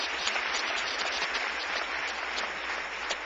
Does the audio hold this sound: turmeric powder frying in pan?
no